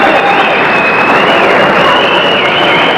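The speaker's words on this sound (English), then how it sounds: "All the cheers that you can probably hear in the background at the moment" A large arena crowd at a boxing match cheers and applauds while local celebrities are introduced into the ring, producing a loud, continuous roar with a steady wash of clapping and no gaps.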